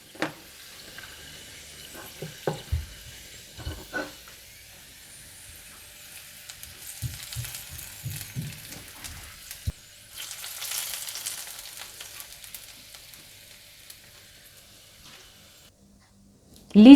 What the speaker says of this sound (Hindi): इसके बाद ये तड़का आप दाल पर डाल दें।